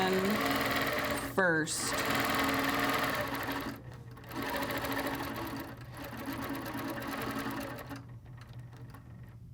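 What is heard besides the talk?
sewing machine stitching a quilt design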